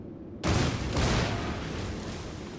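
A warship's guns fire during a World of Warships naval battle as a Cleveland cruiser shoots at a Mikhail Kutuzov cruiser: one sudden loud boom that rolls into a long, dense rumbling decay.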